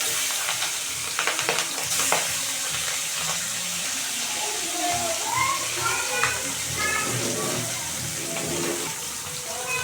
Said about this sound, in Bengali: এগুলো হালকা করে আমি এখন বেজে নেব